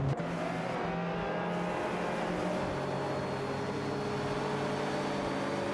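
Race car engines in an AI racing video game, including cars like a Ferrari 308 GTS and Porsche 944 Turbo S, droning in a steady sustained whine with layered engine tones and no talk.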